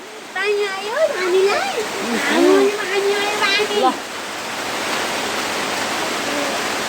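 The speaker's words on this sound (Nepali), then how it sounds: "यत्रो पानी परेको" Heavy rain pours down in a steady, broadband wash, with people talking loudly over it for the first few seconds before the rain continues alone.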